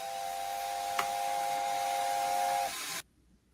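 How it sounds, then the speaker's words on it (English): A video game steam locomotive whistle blows one steady, loud, shrill tone for almost three seconds over a hiss of steam, then cuts off abruptly to quiet. "We have 7 different sounding whistles on here."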